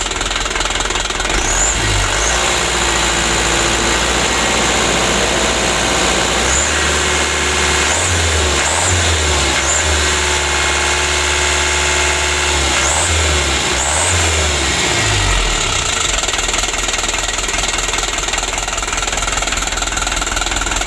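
A 2016 Hino Dutro 130 HD truck diesel engine, badly tuned, idles with a rough knocking clatter and is revved several times in short rising bursts, close and loud, with no talk.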